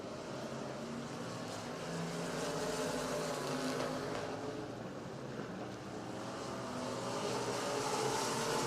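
Race cars roar around an oval track during a regular race program, a continuous distant engine drone that swells and fades slightly as the pack passes, with no talk.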